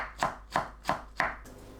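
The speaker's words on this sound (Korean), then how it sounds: "홍고추도 둥글고 얇게 썰어줍니다. 모든 고추는 최대한 얇게 썰어주세요." A knife thinly slices red chili peppers into rounds on a cutting board, giving four crisp, evenly spaced chops up close, then stopping.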